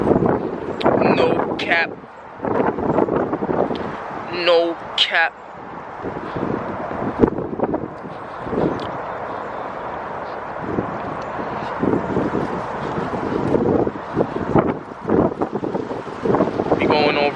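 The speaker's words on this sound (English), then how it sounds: "Mad windy over here. It's windy as heck, man." Strong gusts buffet the microphone outdoors while crossing a bridge, a steady rumbling roar that runs the whole time beneath someone talking loudly.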